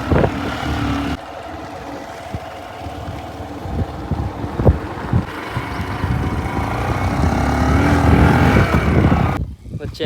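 A motorbike ride along a rain-damaged road, with a steady engine drone and strong wind buffeting the microphone, occasional thumps from bumps, and voices talking over it.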